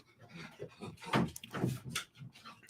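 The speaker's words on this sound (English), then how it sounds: "My dog's going to bark because there's dogs barking outside." A dog makes soft, close breathy sounds and short whines in several uneven bursts, fairly faint, with no clear barking.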